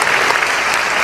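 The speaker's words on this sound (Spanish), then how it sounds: "Dale ese aplauso al Rey bendito." Church congregation applauding in a steady, dense wash of clapping at close range, with no speech over it.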